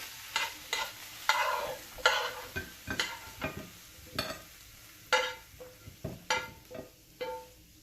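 Ethiopian-style fish goulash sizzles in a pan while a utensil stirs it in repeated scraping strokes, each one bringing a burst of frying hiss, close up with no voices.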